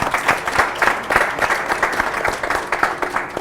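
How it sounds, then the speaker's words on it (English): A hall audience at the 2016 African Union Summit conversation in Kigali claps in steady, sustained applause, a dense patter of many hands filling the room. "I think you all deserve a round of applause"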